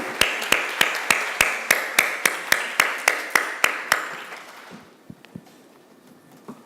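Clapping from a Spanish-language human rights course session: a run of evenly spaced, sharp claps at a steady quick beat that fade out, followed by a few scattered faint claps.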